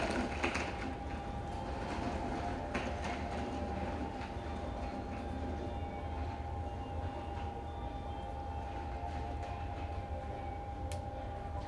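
A Fukuoka City Subway 2000 series train with late-type Hitachi GTO-VVVF drive and an abnormal noise runs steadily underground, a constant close rumble with a sustained motor tone held throughout, no talk.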